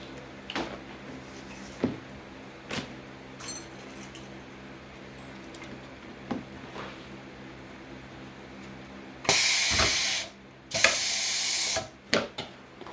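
An automatic grommet machine punches and sets grommets through 18-ounce blockout banner material with 2-inch webbing, giving sharp intermittent metallic clacks followed by two loud hissing pneumatic air bursts near the end.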